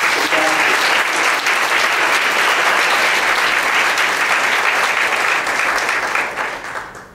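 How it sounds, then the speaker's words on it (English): A banquet audience at a writers conference claps loudly and steadily for the volunteers, a dense close wash of applause that holds for several seconds and then fades out. "I would like a round of applause for them because they really did the job."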